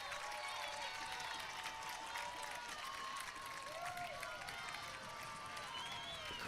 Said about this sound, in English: Crowd starting to come alive a little bit